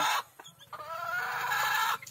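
A backyard rooster gives a short, drawn-out clucking call close by, with a few softer clucks before it.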